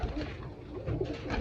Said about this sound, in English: Got 2 young birds up here in the nest, about ready to come out too.